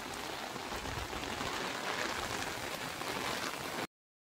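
Heavy rain pours steadily onto a small patch of concrete slab, a dense, even hiss of close, loud drops with no pauses, ending abruptly.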